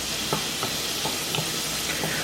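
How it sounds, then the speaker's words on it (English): Onions and garlic sautéing in a hot pan, a steady close sizzle with faint stirring scrapes at a slow, even rhythm and no voices. "We're just going to saute up these onions just a little bit."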